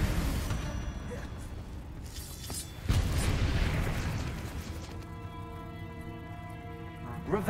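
Heavy spell explosions from Bombarda and Confringo in Hogwarts Legacy, a loud booming blast with rumbling debris over dense combat noise, then a lingering tonal hum as the din fades; voices are heard amid the action.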